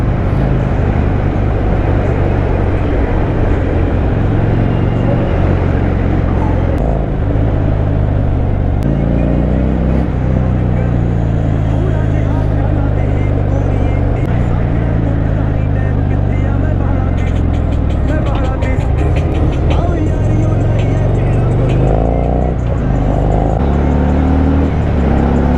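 A 2014 Harley-Davidson Dyna motorcycle with an aftermarket exhaust ridden fast on a mountain road, its engine droning loudly and steadily throughout with heavy wind rush, close to the rider.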